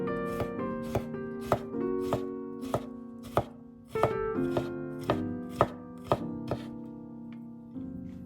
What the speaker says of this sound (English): Next, mince 2 large garlic cloves.